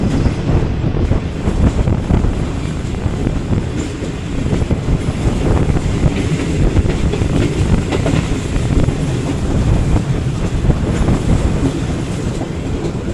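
Fareed Express passenger train rolling into Khanpur on its rails, a steady loud rumble with rhythmic wheel clatter and faint squeal running continuously throughout, no voices.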